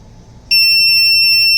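A multimeter in diode-test mode gives a loud, steady electronic beep that starts abruptly and holds as a continuous tone, with a faint background hum, while a diode is checked on a Bose AWRCC1 Wave Music System.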